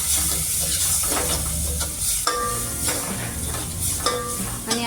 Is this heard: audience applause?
no